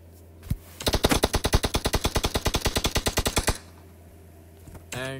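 Automatic gunfire in a battle royale tournament match rattles off in one sustained burst of about twenty-five rapid, evenly spaced shots, loud and close, preceded by a single sharp report and followed by quieter ambience.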